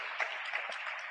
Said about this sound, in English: Clap hand for Jesus.